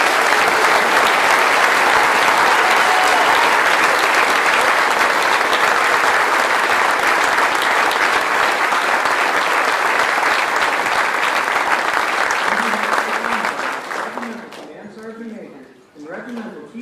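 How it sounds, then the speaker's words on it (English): A large audience at the Best Sapper Competition awards ceremony gives a final round of applause, a loud, dense, sustained wash of clapping that runs about fourteen seconds before cutting off abruptly, with a voice starting to speak afterward. "please join me in a final round of applause for all of the 2026"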